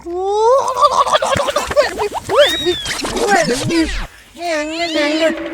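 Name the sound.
cat meowing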